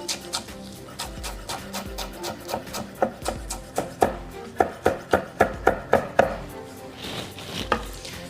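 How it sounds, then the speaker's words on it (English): A knife chops greens finely on a cutting board in a quick series of sharp, close, distinct knocks that speed up into a steady rhythm, with no talking. "chopping it pretty finely into a mince"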